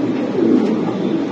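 Beauty breed pigeons coo at a seller's stall, a soft, throaty, low warbling murmur that is close and steady across the brief moment, with no talk over it.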